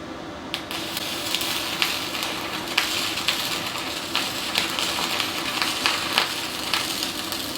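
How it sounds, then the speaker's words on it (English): Stick welding a bead on 1/8 inch steel with 5/32 inch 7018 rod: a continuous loud crackling sizzle, like frying fat, with frequent sharp pops throughout, close up and without talk. "I'm going to run a bead with stick welder. I'm welding some 1/8" steel with some 70-18 rod"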